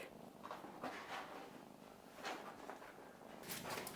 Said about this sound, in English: I hear somebody purring.